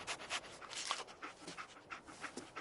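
The dog companion Dogmeat in the video game Fallout 4 pants rapidly and rhythmically, breathy and close, with no talk over it.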